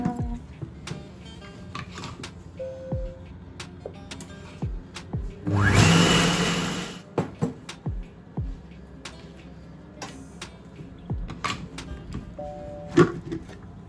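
Kitchen robot such as a Mr Cuisine or Thermomix mixing at speed 6-7, a loud whirring burst of about a second and a half mid-clip, surrounded by scattered clicks and knocks of kitchen handling.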